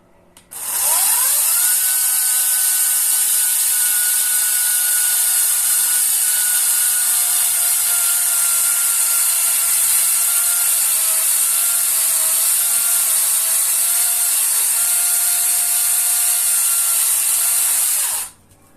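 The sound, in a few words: Ozito brushless cordless chainsaw cutting a log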